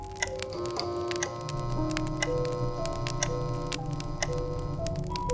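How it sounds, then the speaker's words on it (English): A clock ticks steadily in a quiet room at a deserted rest stop at night, sharp regular clicks repeating over a low, constant electrical hum from neon lights, with no voices. "The only sound was the ticking clock and the occasional hum of the neon lights."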